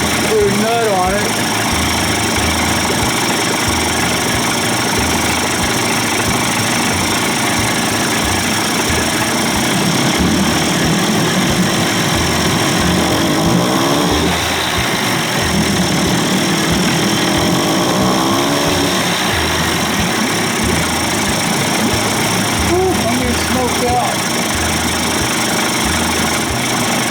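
A Johnson Evinrude 25 to 35 hp outboard engine runs steadily at a loud, even idle with a rapid rhythmic chugging throughout, while someone talks over it at times.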